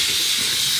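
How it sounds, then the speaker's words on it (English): A steam cleaner lets out a steady, loud, bright hiss of escaping steam, continuous and unbroken for the whole moment, with nothing else standing out. "I can't hear it from that steam cleaner over there."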